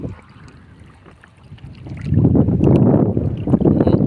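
Strong wind gusts across a riverside fishing spot on the Mun River, a low rumbling roar that swells louder in the second half and buffets the microphone.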